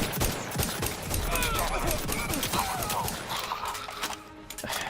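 Combat gunfire in the video game The Outer Worlds 2, dense rapid shots crackling almost continuously over a busy mix of game effects, easing off slightly near the end.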